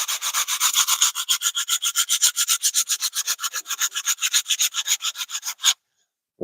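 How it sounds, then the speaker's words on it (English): Carved wood being hand-sanded outdoors: a quick, regular run of short rasping back-and-forth strokes, close and crisp, stopping abruptly before a brief silence. "As I say, I'm just sanding this off."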